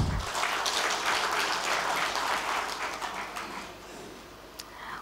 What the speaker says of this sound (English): please give them all a warm round of applause